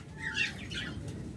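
Pet birds at a bird shop stocking lovebirds, budgerigars and Java sparrows, giving a brief burst of close, bright chirps and tweets that soon fade into a low, steady background murmur.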